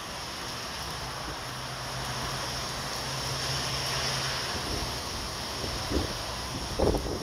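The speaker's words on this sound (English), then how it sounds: "the winds are quite great." Strong, gusting Hurricane Dorian wind roaring steadily with a broad rushing noise, swelling and easing, a few louder buffets near the end, no talking.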